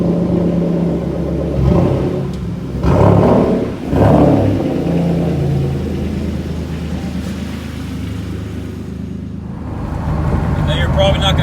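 A turbocharged 3.8 Genesis Coupe drives and revs from inside the cabin, a loud sustained engine drone with rising revs and whirring overtones, and a voice speaks over it in places.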